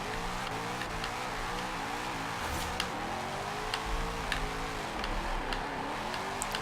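Nissan 240sx Formula Drift car with Rain-X livery in Forza, engine note rising and falling with gear shifts and revs throughout, with sharp ticking clicks scattered over the continuous drone, close and loud.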